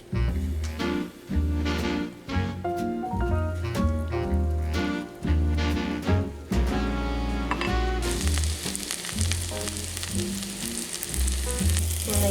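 Pumpkin roll-ups frying in butter in a pan, a steady sizzle beneath prominent rhythmic background music that grows into a brighter, louder hiss in the last few seconds.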